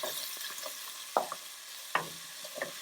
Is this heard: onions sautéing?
yes